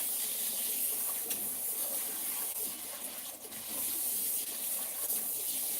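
Tap water runs steadily while hair is shampooed, a close, even hiss of flowing water that continues for several seconds.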